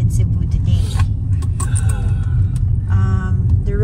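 A car driving along roads in Cebu a week after a typhoon, its low steady engine and road rumble continuous beneath people talking inside the vehicle.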